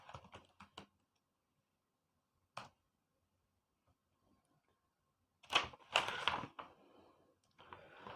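Bursts of keyboard typing, a quick cluster of clicks at the start, a lone tap, then a denser, louder run of keystrokes near the end, heard alone without talk.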